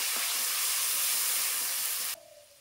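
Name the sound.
ground ginger and cashew paste sizzling in oil in the pan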